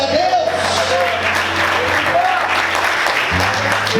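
Applause from a church congregation during a sermon, steady clapping across the whole stretch, with a low sustained tone and some voices mixed in underneath.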